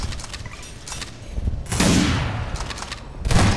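Rifle gunfire in a sniping game session, several loud sharp shots with booming tails, one near the start, a heavier blast around the middle and another at the end.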